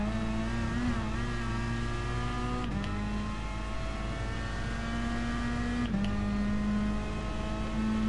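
A GR4 race car in Gran Turismo Sport at the Red Bull Ring brakes too late and runs off track; its engine drones loudly and continuously, with pitch stepping up and down through gear changes, and no voices.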